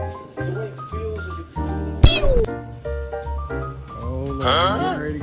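A cat meows with several drawn-out, rising and falling calls, fairly close and loud, over steady background music.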